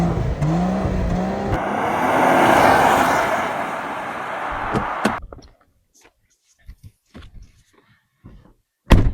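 A Volvo S80 T6 with dual exhaust revs loudly nearby, its engine swelling and fading over several seconds before cutting off, followed by scattered faint clicks and thumps and a final sharp knock.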